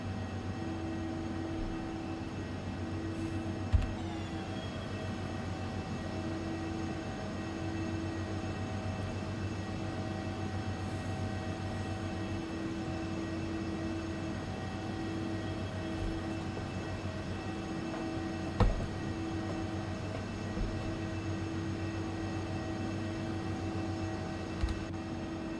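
Steady, droning whine of ERJ 135 jet engines in a flight simulator, a constant hum with sustained tones throughout, broken only by a few faint clicks.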